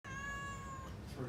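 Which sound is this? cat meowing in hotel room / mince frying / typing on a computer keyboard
cat meowing in hotel room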